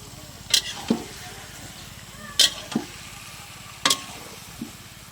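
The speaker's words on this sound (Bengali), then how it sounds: "সুন্দর করে কষানো হচ্ছে।" Food being sautéed and stirred in a pan in a home kitchen, with three or four sharp spatula scrapes and clinks against the pan over a steady low background sizzle; no talking.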